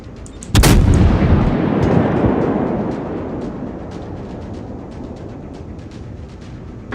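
A broadside from 203mm naval guns in World of Warships: one huge, close boom that rolls into a long, slowly fading rumble lasting several seconds, with faint ticking in the background.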